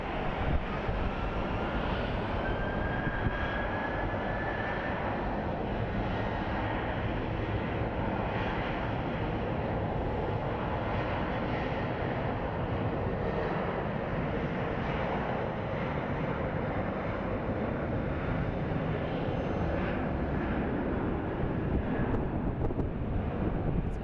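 An airliner bound for Denver roaring steadily at Phoenix Sky Harbor airport, a continuous loud jet rumble with a faint rising whine, mixed with gusty wind noise on the microphone throughout.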